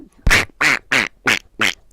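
Five loud, high-pitched nasal quacks in a steady rhythm, each about a quarter second long, sounding like a tunable, controlled Donald Duck-style voice imitation of a duck quack.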